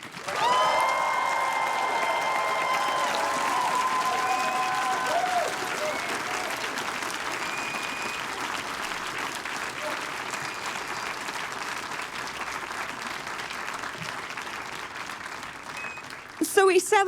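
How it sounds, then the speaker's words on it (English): A large graduation ceremony crowd at the University of Aberdeen applauds and cheers for supporters, sustained loud clapping with whoops that gradually thins, ending in a short sharp burst. "this is another point where we pause, turn, and cheer to your supporters"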